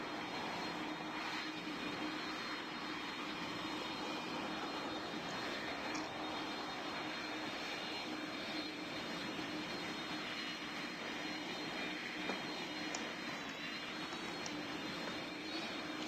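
A Boeing 747 taking off gives a steady, distant jet engine drone with a faint whine, sustained and even throughout with no talk over it.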